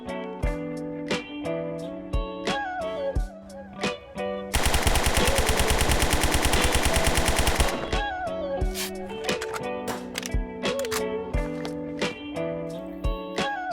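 Sustained full-auto burst from an M4 rifle in the video game Zero Hour: Operation Black Dawn, a loud, dense, rapid string of shots lasting about three seconds, set between sparse single shots and game sound.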